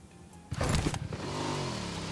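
A motorcycle engine in a battle royale game starts with a sharp burst, then settles into a steady revving hum that rises slightly in pitch, close and loud without speech.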